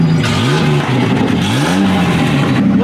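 A car with a broken exhaust revs loudly up close, its rough, blatting engine note rising and falling through several throttle blips that fill the whole moment.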